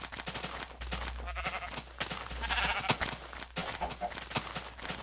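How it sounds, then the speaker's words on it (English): Sheep bleat in a blocky survival video game, several overlapping calls in bursts amid other game noises, fairly loud and close with no talking. "Unfortunately, I'm going to have 5 million sheep, but I know how to deal with sheep."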